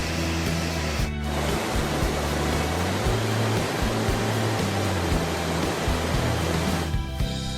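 A powerful waterfall at the bottom of the Yunlong ground fissure in Enshi, Hubei, roars in a dense, unbroken wash of rushing water, loud and close, with a low steady rumble beneath.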